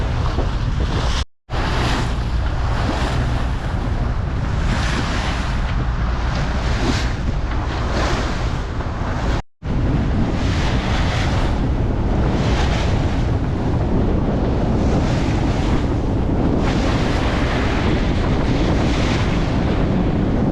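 Strong 20–30 knot wind buffets the microphone aboard a sailing yacht off Phuket, Thailand, with waves rushing and surging against the hull in a loud, continuous roar broken by two brief dropouts.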